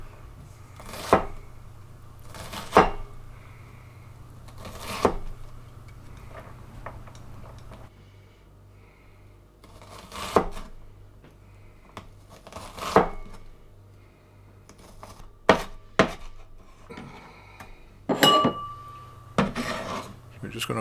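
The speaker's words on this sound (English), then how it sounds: "I'm just showing here the easiest way to actually chop them up fairly quickly" A knife chopping onions on a cutting board for beef samosas, bursts of quick crisp cuts separated by pauses, close by and alone against a quiet kitchen background.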